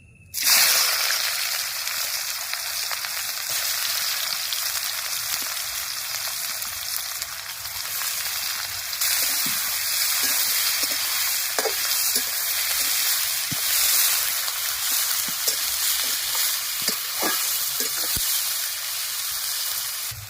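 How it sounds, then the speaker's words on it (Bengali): Four large chopped onions hit hot oil in a wok and sizzle loudly and continuously, with scattered crackles and pops throughout. "চারটা বড় সাইজের পেঁয়াজ কুচি করে নিয়েছি এবার তেলের উপরে দিয়ে দেবো"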